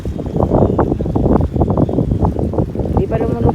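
Wind buffets the microphone outdoors on a hot, gusty day, a constant low rumble with rapid irregular gusts, heard close and loud, with speech mixed in.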